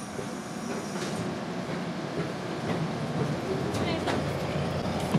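A Caltrain diesel train rolls steadily past, a dense broadband rumble with faint rail clatter holding at a fairly loud, even level throughout.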